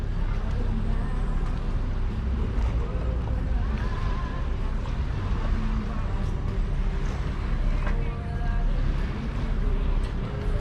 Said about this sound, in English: So that's the ferry coming in